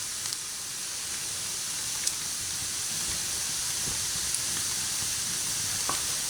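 Butter sizzling in a warm skillet: a steady, moderate hiss runs throughout, with faint pops scattered through it.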